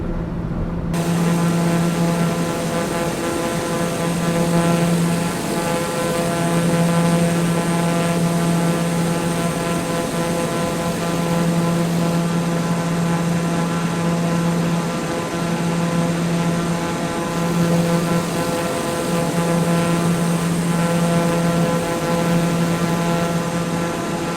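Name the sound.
propeller airplane engine in Flight Simulator 2020 video game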